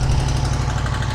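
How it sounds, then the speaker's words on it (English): A Chevrolet El Camino idles close by, its exhaust throbbing in a steady low rumble that runs unbroken and loud through the whole moment. "Got the El Camino next to me, so ignore the exhaust."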